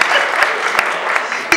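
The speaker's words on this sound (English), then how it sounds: "He gets applause for being himself" Audience at a community talk gives a short round of applause, continuous clapping with a few louder sharp claps standing out, no speech over it.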